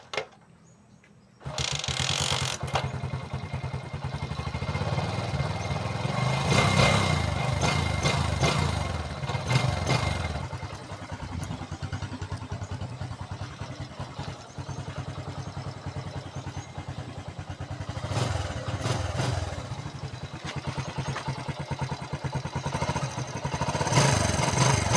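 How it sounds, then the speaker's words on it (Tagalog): A motorcycle engine cold-starts just after an oil change: after a moment of quiet it fires up and settles into a steady, clattery idle that runs on, close and fairly loud. "Cold start na nato mga idol kay humana na nato change oil."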